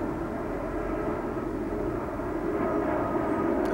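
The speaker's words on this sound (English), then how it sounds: "Airplanes." A steady, droning airplane engine rumbles continuously overhead, fairly loud and unbroken throughout, with no other sounds standing out.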